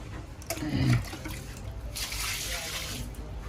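Water runs steadily from a tap while shoes and feet are washed, a close, continuous splashing hiss with a brief louder gush near the start.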